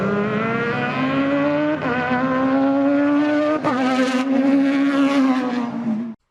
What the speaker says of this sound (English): I short shifted down the front straight to start my first flying lap, and the car sounded pretty good